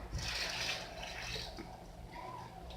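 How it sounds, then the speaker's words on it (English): Water splashes and gushes steadily into a cooking pot nearby, a soft continuous rushing sound without any voices. "Now we are going to add the water."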